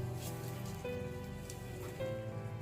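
Rain falls on a bird's eye chili garden, a steady close patter of drops on leaves and soil, with a few louder individual drips and no talking.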